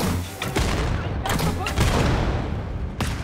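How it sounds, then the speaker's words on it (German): Explosions and gunfire in the shooter Wolfenstein Youngblood, several loud booming blasts and bursts in quick succession, dense and close, with voices talking over the combat. "Mit der ersten Explosion ist er hoch nach vorne geflogen."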